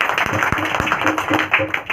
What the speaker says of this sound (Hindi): हालेलुया, एक जोरदार तालियां दे सकते हैं।